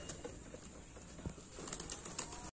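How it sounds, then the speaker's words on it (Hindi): A plain pigeon nearby outdoors, with faint soft flutters and a brief wing-flap burst in the middle over quiet background noise. "देखिए गाइस ये रहा वो कबूतर"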